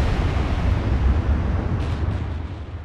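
Torpedoes launching from a warship during a naval battle in Ultimate Admiral Dreadnoughts, heard as a steady, loud low rumble with dense booming texture that holds for about three seconds without any talk.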